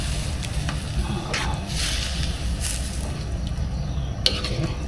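Tom yum soup with beef and tripe bubbles in a pot, giving a steady close-up simmering and sizzling hiss with a few brief clinks and stirring scrapes.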